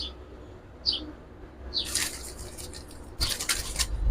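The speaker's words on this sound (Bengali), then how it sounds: "এক জোড়া ভালো কবুতর" Pigeons at a Bangladeshi pigeon market, including a silver male and a female, give a few short faint calls and flutters over steady background noise, with a bit of louder rustling and wing movement toward the end.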